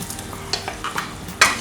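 Chunks of boiled beef, potato and carrot drop into boiling water for a Kerala-style beef stew, giving a few soft clinks and a sharp splash near the end over a low bubbling hiss.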